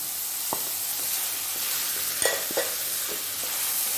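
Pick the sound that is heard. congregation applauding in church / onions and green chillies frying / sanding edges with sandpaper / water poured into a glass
onions and green chillies frying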